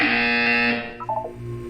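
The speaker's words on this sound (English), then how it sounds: "When you hear the buzzer, look up at the ceiling." A loud, steady electronic buzzer drones for most of a second, then cuts off, followed by a few short synthetic beeping tones, in the video game Portal 2.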